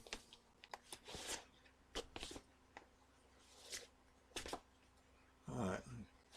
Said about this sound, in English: I'm going to shuffle them up again and reach into the middle.